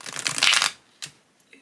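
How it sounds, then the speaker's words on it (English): A deck of Everyday Witch tarot cards is riffle shuffled, giving a close, fluttering burst of cards that lasts under a second, followed by a couple of quieter card taps. "So we're going to try the riffle shuffle first."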